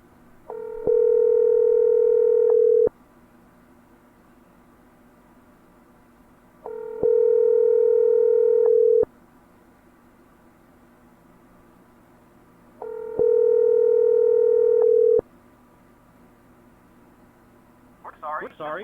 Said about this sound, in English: You guys hear the phone ringing?